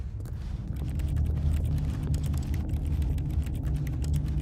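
Quick, steady keyboard typing in The Stanley Parable, a dense run of crisp key clicks close by over a low hum, with no talk.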